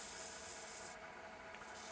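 Steady, soft abrasive rubbing of 400-grit abrasive with sanding wax, a continuous gritty hiss, close by and unbroken for the whole stretch, no voices.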